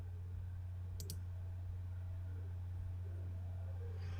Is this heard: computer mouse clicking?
yes